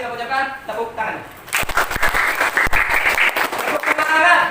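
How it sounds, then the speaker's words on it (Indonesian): Classroom students applauding after a lesson, a burst of many hands clapping at close range that begins after a brief voice and continues steadily. "Tepuk tangan."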